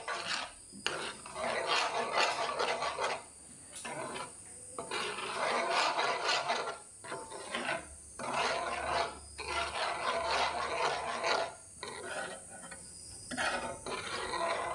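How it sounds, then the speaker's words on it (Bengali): Mango and milk mixture being mixed in a pot, giving repeated rasping, scraping strokes at close range in bursts separated by short pauses, with no voices. "এবার ভালোভাবে মিশিয়ে নিচ্ছি।"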